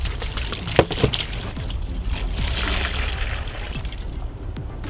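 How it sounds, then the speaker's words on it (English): Distilled white vinegar pours steadily from a jug into a large custom-fitted bowl, making a continuous close splashing gurgle with a brief louder knock near the start. "Now you've got a custom fitted bowl to fill up with distilled white vinegar."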